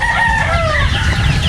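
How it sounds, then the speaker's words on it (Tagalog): White Lemon game fowl on a Philippine farm, a rooster crowing loudly and close, drawn-out over nearby hens clucking. "So ito yung mga manok niya."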